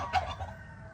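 Black Australorp chickens on a farm give a short burst of clucking with a bit of crowing, close and moderately loud, over a low steady background hum.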